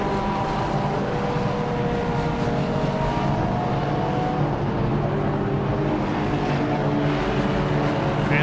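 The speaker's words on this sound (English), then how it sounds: "There's the 47 Ginetta" The number 47 Ginetta race car in a BARC circuit race goes by on track, a sustained loud engine roar with shifting tonal whine across the whole stretch, fairly close, with no talk.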